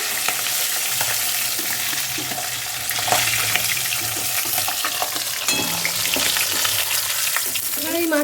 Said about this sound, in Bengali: সব কটা মাছই ভেজে ভেজে তুলে নেবে